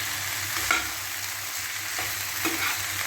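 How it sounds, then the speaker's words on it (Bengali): Poppy seed paste ground with green chilli, tempered with a dry red chilli, being stirred and fried in a pan until dry, a steady soft sizzle with a few sharper scrapes of the spatula, close up and no voices. "চলুন ভালো করে কষাই, তারপরে দেখাচ্ছি। দেখছেন একদম পোস্তটা একদম শুকনো শুকনো হয়ে গেছে।"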